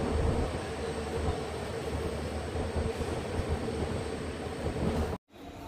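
A train rolls into Tumakuru Junction railway station toward platform 3, its steady rumble and wheel noise loud and continuous, then cutting off abruptly near the end. No voices.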